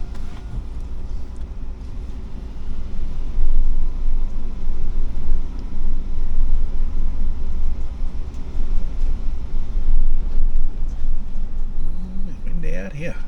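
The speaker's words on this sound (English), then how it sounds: "Windy out here." Outdoors in a parking area, a steady roar of wind buffets the microphone with heavy low rumbling gusts that rise and fall throughout, with a voice briefly audible near the end.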